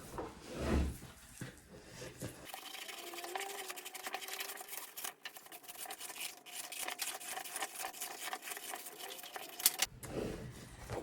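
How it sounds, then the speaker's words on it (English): Scissors cut a large paper circle, traced with string as a guide, for a homemade Christmas tree cone: a steady, quiet run of close snipping and rustling paper under faint room noise, with no voices. "So next thing I'm going to do is cut this circle out."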